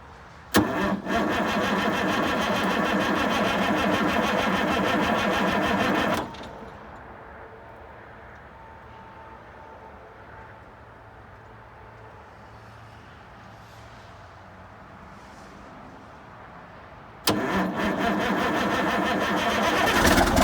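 An abandoned Versatile 895 tractor engine cranks with a loud, dense churning for about six seconds, falls to a quieter rumbling stretch, then roars back loudly near the end; no talk.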